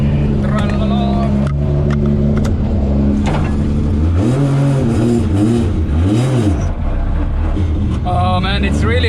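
A drift car with a 2JZ engine revs hard, its pitch swooping up and down in loud, sustained bursts as it struggles to launch, with a voice talking over the engine noise.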